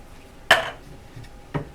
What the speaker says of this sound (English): I'm gonna dump in my can of peas